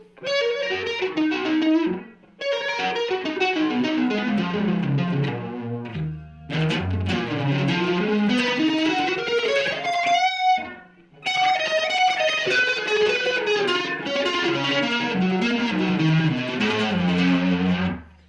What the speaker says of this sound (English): Little fab distortion.